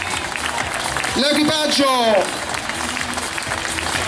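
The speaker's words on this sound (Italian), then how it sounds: "Forza con le mani, applaudiamo" Audience clapping at a rally award ceremony in Piedimonte for the Ronde Parco del Matese 2014, a steady wash of applause running beneath an announcer speaking over a loudspeaker throughout.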